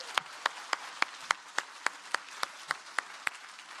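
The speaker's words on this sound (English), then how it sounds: "please give yourselves a round of applause" A conference audience claps in a steady, rhythmic series of sharp, evenly spaced claps, about a dozen beats, moderately close and without talk over it.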